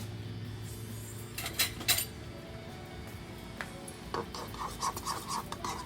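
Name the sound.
mixing crab cake sauce with honey mustard in a bowl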